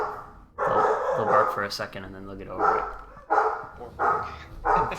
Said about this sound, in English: Sorry about the dogs. They'll bark for a second and then they'll get over it.